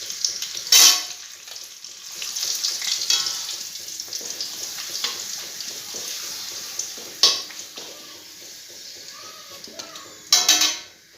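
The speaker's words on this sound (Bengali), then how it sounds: "পাঁপড়গুলো আমি একটা একটা করে ভেজে নিব" Papad frying one at a time in hot oil in a wok, a soft steady sizzle at moderate level with a few sharper bursts of crackling and utensil clatter near the start, middle and end.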